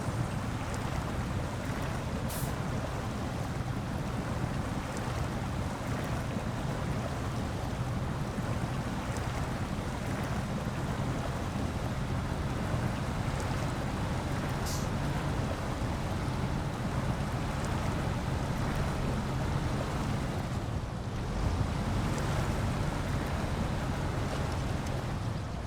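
Truck in SnowRunner pushing through shallow water over a rocky bottom, a steady broadband wash and slosh with a low engine drone underneath, continuous and fairly loud throughout with no talking.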